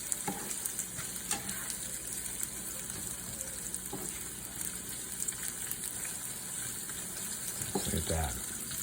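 Sliced sweet onions frying in a pan, a steady broadband sizzle running throughout with a few stirring clatters and a louder scrape near the end.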